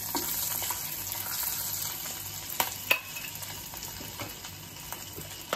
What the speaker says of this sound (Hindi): अभी इधर दो तीन लौंग, इलायची सब कुछ डाल देंगे, एक तेज पत्ता, इसको खुशबू आने तक अच्छे से फ्राई कर लेंगे।